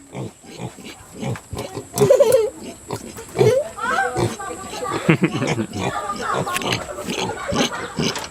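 A pig grunts and snorts repeatedly up close, its rough noises mixed with a person talking to it throughout.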